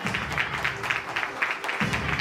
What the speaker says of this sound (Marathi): टाळ्या जोरात.